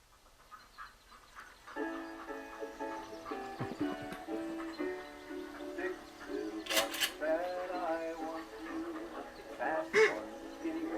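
Duck quacks and honks from an interactive glove-controlled duck-hunting demo, a dense layered flock of calls starting about two seconds in, with a couple of sharp bursts, and a voice speaking over it.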